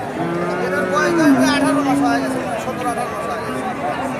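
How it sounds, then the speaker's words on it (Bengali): A Friesian heifer calf at a busy cattle market lets out a long, loud moo close by, over a background of crowd chatter and voices. "কি জাতের বকনা বাছুর এটা ফ্রিজিয়ান জাতের বকনা"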